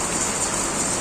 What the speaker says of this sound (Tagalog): Yung ulan yan, lakas.